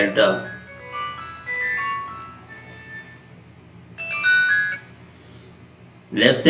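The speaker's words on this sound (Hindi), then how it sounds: "सॉरी ये फ़ोन आ गया था इसके अंदर" A mobile phone ringtone goes off during a real analysis lecture, its melodic phrases repeating in bursts with quieter gaps in between and a voice around them.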